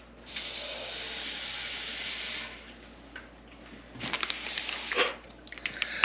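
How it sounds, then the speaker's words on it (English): Very warm water runs from a tap into a 2-liter measuring cup, a steady bright hiss lasting about two seconds before cutting off, followed by quieter handling clatter and a few small knocks. "I'm going to put about a third of a liter in the bottom of very warm water first"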